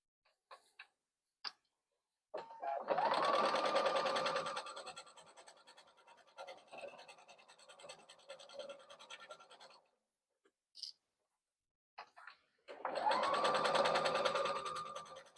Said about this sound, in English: So sew around both sides here, but not the trim, the lining or these corners.